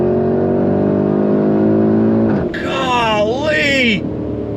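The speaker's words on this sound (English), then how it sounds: "Golly, the acceleration, the way the 8-speed shifts so fast, so smooth." A 2024 Porsche Cayenne Turbo e-Hybrid accelerates hard, its engine note climbing steadily before a quick 8-speed upshift drops the pitch and the revs rise again. It sounds loud and close, as if from inside the cabin.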